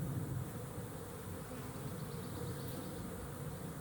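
Honey bees buzz steadily and densely from an open hive under inspection, a close, continuous hum with no voices, the colony restless as if preparing to swarm.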